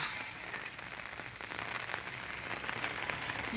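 Steady monsoon rain in Jamnagar patters in a soft, even hiss with scattered drops, fairly close and moderately loud throughout, no voices.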